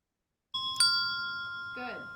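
Small bells struck by a patient during a neurologic music therapy session: two bright, sustained chime tones ring out in close succession, with a short voice sound near the end.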